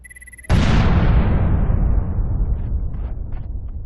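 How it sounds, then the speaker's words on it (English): A detonated charge blows through stone in the video game Lifeless Planet: one sharp, loud blast followed by a long rumbling decay with faint debris sounds trailing off. "Actually, you have plenty of time to get away because it takes a while to detonate."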